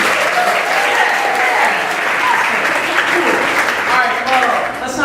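A comedy club crowd applauds a stand-up comedian as one act ends, dense clapping that stays loud and sustained from start to finish, with the host's voice faintly mixed in.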